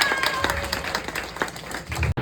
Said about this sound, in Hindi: यार तालियां बजानी चाहिए।